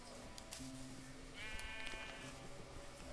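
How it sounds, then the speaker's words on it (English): A Minecraft sheep bleats under attack by a wolf, a faint wavering cry heard amid low game noise and brief clicks. "Oh, that wolf is slaughtering that sheep."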